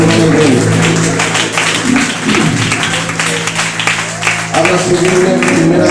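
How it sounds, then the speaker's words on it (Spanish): A church congregation claps loudly for the King during an evening service, a dense, continuous wash of applause over about six seconds mixed with voices and music-like tones. "Alguien puede dar un aplauso fuerte al Rey."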